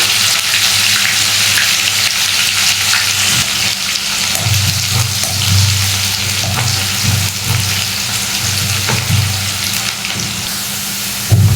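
Chopped onion frying in hot oil makes a loud, continuous hiss close by, with occasional scrapes and knocks from stirring and no talking.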